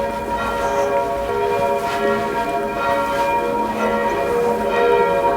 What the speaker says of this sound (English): Sound of the bells of the church.